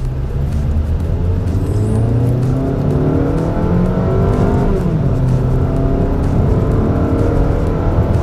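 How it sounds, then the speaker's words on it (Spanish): A Mazda CX-30 in Sport mode accelerates at full throttle, the engine note climbing in rising sweeps through several gear changes, loud and close from inside the cabin, with no talk. "Lo primero que voy a ver es la aceleración"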